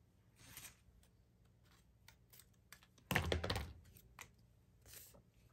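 Scissors trimming a sheet of tea-dyed paper in a quiet room, a few faint snips and rustles, then one louder, longer cut with paper crinkling before quieter handling returns.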